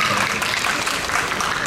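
A small audience claps at an architecture seminar in Busan, a brief, steady patter of applause from a sparse crowd in a hall.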